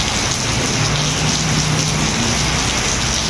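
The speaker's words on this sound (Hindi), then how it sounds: "तो अभी हो रही है बारिश बड़े मज़ेदार" Steady rain falling during a trip in Punjab: a loud, continuous hiss of drops on surfaces with no breaks, heard alone without talk.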